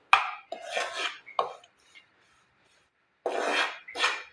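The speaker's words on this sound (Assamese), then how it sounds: "আৰু অলপ সময় মই এইদৰে লৰাই থাকিম।" Roasted atta (wheat flour) being stirred in a pan for peda, with the gas switched off, giving short scraping and rasping bursts of a spatula against the metal, close and loud, separated by brief pauses.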